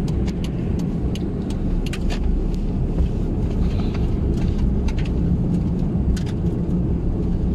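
A car travels along the central main road into a Siberian village in Khakassia, its steady low road rumble and tire noise running continuously with some wind buffeting and no talking.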